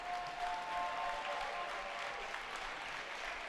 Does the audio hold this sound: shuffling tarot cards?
no